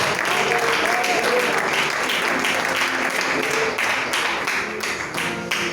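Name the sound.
church congregation applauding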